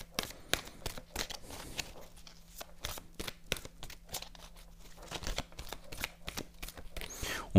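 Tarot cards are shuffled with sharp, rapid riffling bursts and slaps, close and crisp, followed by cards being drawn, with no talking.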